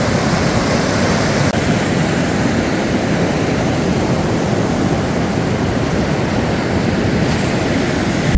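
A flooded creek and waterfall roar in a steady, loud, broadband rush that fills the whole stretch without pause, heard up close.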